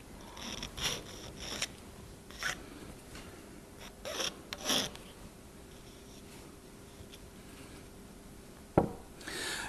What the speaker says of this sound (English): We do this using a file.